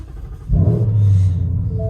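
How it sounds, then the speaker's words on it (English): A Ford Mustang cold-starts with a sudden loud burst as its exhaust valves open, settling quickly into a deep, steady, rumbling idle close to the microphone. "for just a split second on cold starts, the valves kind of open up and it basically makes it loud cold start"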